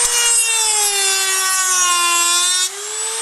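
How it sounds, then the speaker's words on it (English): A Dremel rotary tool grinds to sharpen the edge of a pipe opening for a homemade potato gun, giving a steady high whine that dips slightly in pitch as it bites, then eases near the end. "I'm going to sharpen the area right around here with a Dremel."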